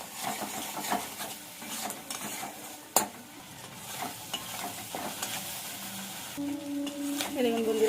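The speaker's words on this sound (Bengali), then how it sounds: "ভালো করে একটু ভাজা ভাজা করে নিতে হবে।" Fish oil with onion, garlic, turmeric and salt frying in a pan, a low sizzle broken by spatula scrapes and stirring clinks, one sharp knock near the middle, with a voice talking over it.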